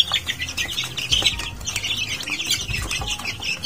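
Two-to-three-week-old chicks chirp continuously and close by, a busy mix of high peeping calls with some soft movement and scratching underneath.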